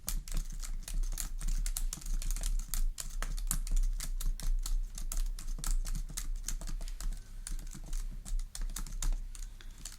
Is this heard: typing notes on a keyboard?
yes